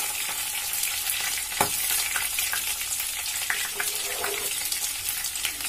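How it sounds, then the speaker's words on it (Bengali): Chopped onions sizzle steadily in hot oil in a pan, with scraping stir strokes breaking through now and then, close and continuous with no voices. "পেঁয়াজ কুচিটা দিয়ে একটু নেড়ে চেড়ে দিব।"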